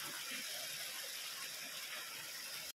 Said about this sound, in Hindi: ये मंदिर के बगल में छोटी सी नदी